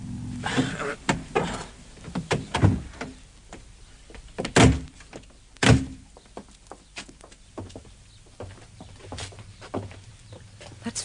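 Door creaking and clunking open in a radio drama, with several sharp knocks and thumps standing out against a low rumbling background, fairly close, with no voices.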